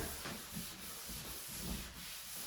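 An electric sander works over the wood of a mid-century modern dresser being restored, giving a steady broadband rubbing hiss with slight pulses, close and alone.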